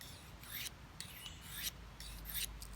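A stainless steel Victorinox Fieldmaster Swiss Army knife blade is drawn across the fine side of a sharpening stone in several quiet, close rasping strokes with brief pauses between them.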